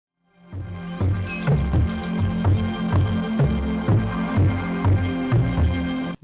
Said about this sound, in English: Over there, he's just slapping a tree.